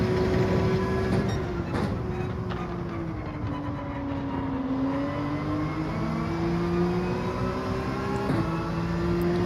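Gr.3 race car engines in Gran Turismo 7 drone and rise and fall in pitch, a continuous revving hum with tonal whine shifting over several seconds, steady and moderately loud.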